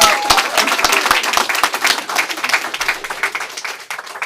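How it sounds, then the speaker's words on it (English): Applause from an audience at a Republican club gathering in Brooklyn, a steady patter of many hands clapping at close range for about four seconds, with no talking over it. "I also want to do a round of applause for Dr. Naomi Wolf."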